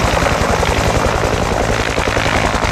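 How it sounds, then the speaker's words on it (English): A Vietnam War-era Bell UH-1 Huey helicopter's rotor thumps in a steady, rapid beat under a loud engine roar, close and continuous throughout. "This is an authentic Huey who was in Vietnam."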